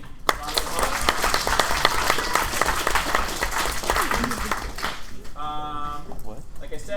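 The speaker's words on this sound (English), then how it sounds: "Round of applause." Audience at a demonstration debate applauding two debaters from Michigan State University and the University of Mary Washington, dense broadband clapping for about five seconds before fading out, with a voice speaking near the end.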